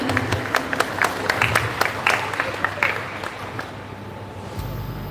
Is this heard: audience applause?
yes